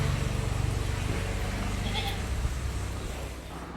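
A colourful, fair-sized crossbred goat bleats at a livestock sale in Manjeri, its calls steady and close over constant low rumble, with a voice talking throughout.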